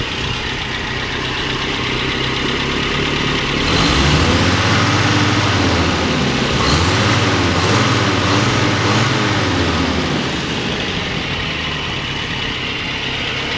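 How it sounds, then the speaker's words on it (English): A Toyota truck engine, recently converted to a GM ignition, idles then is revved several times, rising and falling loudly up close before settling back to idle. "Let me rev it."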